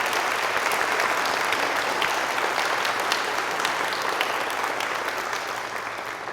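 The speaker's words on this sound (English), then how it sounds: "Thank you for that applause." Audience applause for graduates: dense, sustained clapping from a large crowd that slowly fades toward the end.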